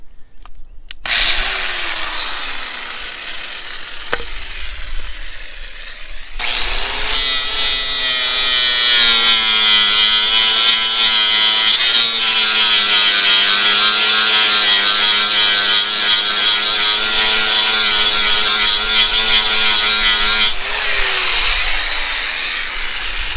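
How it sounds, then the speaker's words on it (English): A DeWalt angle grinder whines steadily for about fourteen seconds while powered from a portable solar generator, with its pitch rising at spin-up and sagging at spin-down, plus a short quieter stretch of motor hum before it starts. "So yeah, grinder works just fine."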